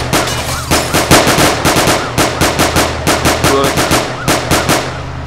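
Rapid machine gun fire in a first-person shooter video game, loud and close, bursts of regular repeated shots running steadily throughout with no talk.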